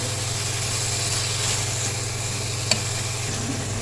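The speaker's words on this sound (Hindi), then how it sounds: "मटरों को भूनते हुए मुझे तकरीबन 5 मिनट हो गए हैं।" Green peas sizzle steadily in a pan while being roasted for aloo moongre sabzi, a continuous close frying hiss with a low hum and one brief clink.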